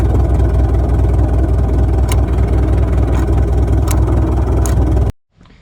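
A Komatsu D31S track loader that sat unused for over ten years runs with a steady, loud diesel drone and a few sharp knocks, then cuts off abruptly near the end.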